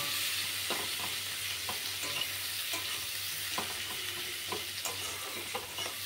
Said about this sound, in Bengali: পেঁয়াজটা ভাজা হোক, একটু নুন দিয়ে দেবো, নরম হয়ে যাবে